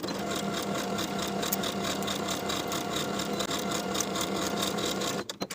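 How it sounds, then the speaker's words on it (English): Sewing machine running steadily along a skirt seam, a close, even whirring chatter that holds for over five seconds before stopping abruptly. "Sew with a 5/8 inch seam allowance and press the seam open."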